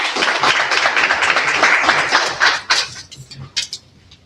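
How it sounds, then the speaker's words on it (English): An audience at an innovation and entrepreneurship funding workshop applauds a presenter, a dense burst of clapping that thins into a few scattered claps before fading. "Let's give her a round of applause again."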